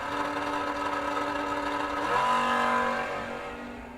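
An early Ford Mustang door car revs its engine at a drag strip in a steady, throaty drone, which climbs in pitch and grows louder midway before easing off.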